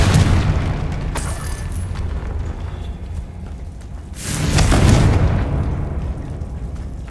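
Confringo spell blasts in the video game Hogwarts Legacy, a loud rumbling boom that swells and fades, with a second heavy explosion surge partway through, dense and close.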